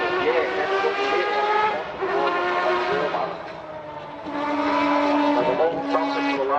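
A Pagani Huayra R with a V12 engine sweeps past on a race track, its loud, high-pitched wail rising and falling through gear changes, dipping briefly on a downshift before screaming again.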